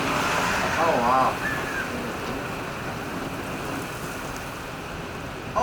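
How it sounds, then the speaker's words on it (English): Heavy storm rain pours down in a steady broadband wash with wind, while excited voices talk briefly over it near the start. "Oh, I can see the sheets of rain."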